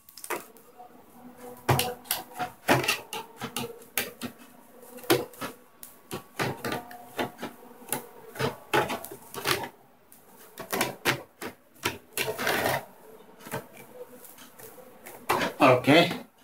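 Sharp, irregular clicks and ticks of a screwdriver working screws out of a laptop display, scattered close by with short pauses between them.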